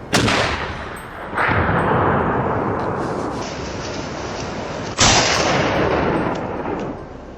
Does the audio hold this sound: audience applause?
no